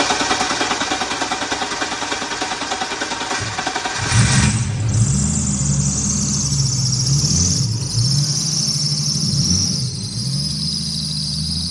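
A 1000hp all-wheel-drive build fires up after a few seconds of quiet idle-like hum, then settles into a loud, lumpy, fluctuating idle with rising and falling revs close by, no voices over it.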